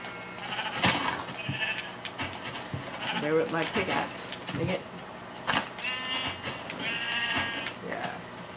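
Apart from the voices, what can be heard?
sheep bleating in the video game Minecraft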